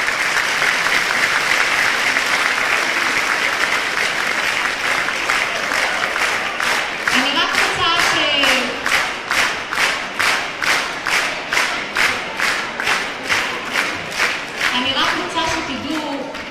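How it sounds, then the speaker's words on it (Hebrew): A ceremony audience gives donors a long, loud round of applause that fills the hall. It shifts into rhythmic, unified clapping in a steady beat, with some cheering and voices mixed in. "ומגיע להם המון המון המון מחיאות כפיים"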